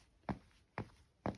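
Three evenly spaced footsteps in old, beaten-up trainers on concrete, recorded close as foley, each a soft, muted scuff-thud with quiet room tone between.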